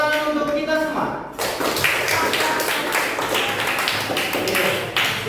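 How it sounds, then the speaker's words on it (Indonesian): A small group of people in a classroom coaching session claps together in quick rhythmic bursts, fairly close, after a voice at the start. "Tepuk tangan untuk kita semua."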